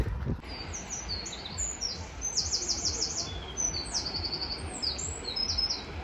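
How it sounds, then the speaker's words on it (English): A bird sings loudly and clearly near a beach, repeating bright, rapid chirping phrases over a soft, steady outdoor background. "I don't know if you can hear on the camera this bird so loud as it is"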